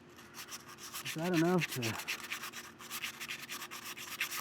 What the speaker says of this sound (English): I'd say like some 180 is more of the grit to use on this